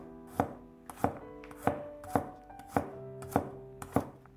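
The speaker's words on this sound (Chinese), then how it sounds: "几瓣去皮的大蒜先切成薄片" A knife slices peeled garlic cloves into thin pieces on a cutting board, making seven crisp, evenly spaced chops that sound close and clear with no talking.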